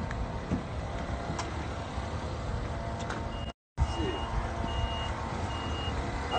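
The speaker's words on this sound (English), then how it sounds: "You want to get in the golf cart with the?" Steady, repeating reversing beeps from a golf cart on an estate, with an engine hum underneath and people talking nearby, briefly cut out midway.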